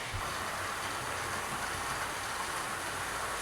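Stanier steam locomotive, the Princess, running along the track as a steady, continuous rolling rumble and rail hiss that stays even throughout, with no voices.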